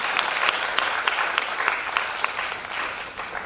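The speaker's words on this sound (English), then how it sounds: "please welcome Panditji with a huge round of applause" A concert audience at a town hall in Mangalore applauds to welcome a distinguished classical musician, a steady even patter of many hands clapping at moderate distance, with a few sharper individual claps standing out.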